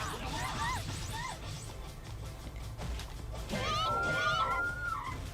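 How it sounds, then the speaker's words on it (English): Smashing hits from a fighting-game brawl in Dengeki Bunko Fighting Climax, opponents struck with megaphones: repeated crashing impacts with whooshing effects and a rising tonal sweep near the end, under game music. "I like smashing them with megaphones."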